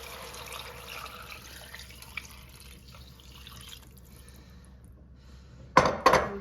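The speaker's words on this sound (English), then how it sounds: "I think I'm gonna add the water in now because this pot is so small." Water is poured into a small cooking pot at a home stove, a short splashing burst near the end after quiet kitchen background with faint drips.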